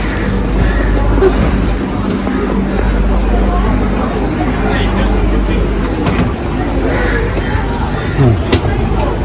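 Steady low rumble of a moving train heard from inside the carriage, continuous and fairly loud, with a busy murmur of passengers talking throughout.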